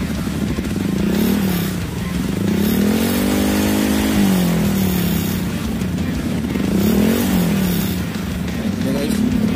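A Honda Vario 160 scooter fitted with a premium aftermarket exhaust, revved up close in several rising and falling swells over a steady idle, with a rattly, throaty tone.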